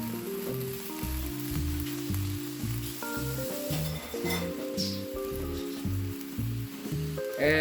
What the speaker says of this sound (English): And just let it boil down a little bit.